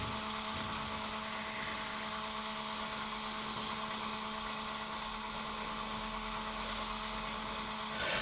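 A wood lathe spins an elm lidded box, giving a steady, continuous whine with a sustained tonal hum and a faint airy hiss. The sound holds even throughout with no voices.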